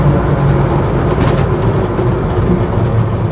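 A Land Rover Series 1 86in soft top drives along with a steady, loud engine drone and road rumble, heard from inside the cabin without talk.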